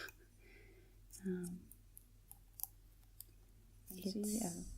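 An IKEA glass is tapped with a few scattered light clicks and brief ringing taps, under and between soft-spoken talk.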